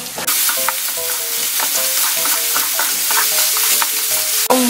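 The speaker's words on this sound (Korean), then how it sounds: "볶는 소리가 예술입니다." Loud, busy sizzling of pork and chopped onions stir-frying in scallion oil in a pot, with repeated metallic scrapes and clinks of a utensil moving it around.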